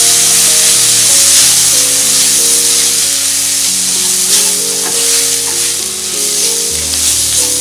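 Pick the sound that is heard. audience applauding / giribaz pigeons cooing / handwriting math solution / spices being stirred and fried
spices being stirred and fried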